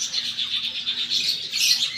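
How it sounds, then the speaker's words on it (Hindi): Lovebirds in a bird enclosure at Indroda Park chirp continuously, a dense, bright twittering chorus at moderate distance with no one talking. "देखा, लव बर्ड"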